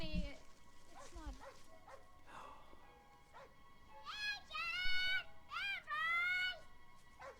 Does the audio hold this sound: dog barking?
yes